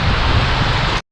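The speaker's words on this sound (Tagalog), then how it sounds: "umulan na nga. Nabutan na tayo rito sa daan." Steady, loud hiss of heavy rain pouring onto a rural road, an even wash of noise that runs without pause and then cuts off abruptly, with no voices.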